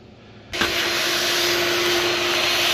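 A wet vacuum switches on about half a second in and sucks up liquid from a tile floor being stripped, a loud steady roar with a high whine that holds to the end, with no talking.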